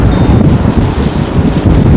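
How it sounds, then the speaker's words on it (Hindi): Strong wind roars and buffets the microphone on a small sunny hilltop overlooking a lake and mountains, a loud, continuous rumbling gust with no break and no voices. "उतनी ही तेज हवा चल रही है"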